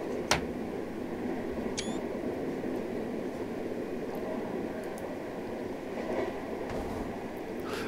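Interior running sound of a VT 628 diesel railcar ride in Train Sim World 3 on the Rhine route between Mainz and Saarbrücken, a steady low rumble and hiss with a couple of sharp clicks and a faint chirp, no talking.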